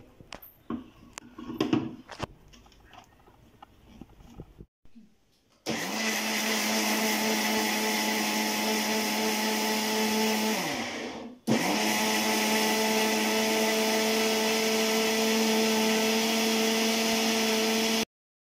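Electric mixer grinder grinding coconut for Malvani solkadhi: after some faint handling clatter, a loud steady motor whine runs for several seconds, stops briefly, then restarts and drones on evenly until it cuts off.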